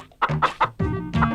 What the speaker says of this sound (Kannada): ಕೋಳಿ ಪಕ್ಕದ ಮನೆದು, ಮೊಟ್ಟೆ ಇಡಕ್ ಮಾತ್ರ ಇಲ್ಲಿಗೆ ಬರುತ್ತೆ.